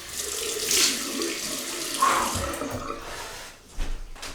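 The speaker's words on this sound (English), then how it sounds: "Okay, so a cold water rinse, and it will be cold," Cold water running from a tap for rinsing after a shave with a Muhle R41 Twist razor, a steady splashing flow with brief louder gushes and a clunk near the end, no talking.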